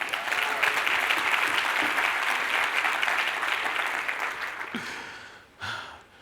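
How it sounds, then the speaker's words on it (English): An audience at an education conference applauds steadily and loudly for several seconds, the clapping thinning and fading toward the end. "Can we give a round of applause?"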